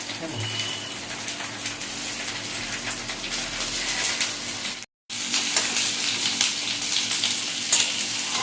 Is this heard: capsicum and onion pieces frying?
yes